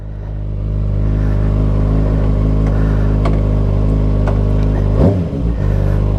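A 2021 Kawasaki Ninja ZX6R with an M4 Street Slayer slip-on exhaust and its check engine light on runs loud and close, a steady throaty drone that swells slightly, with a short rev dip and clatter near the end.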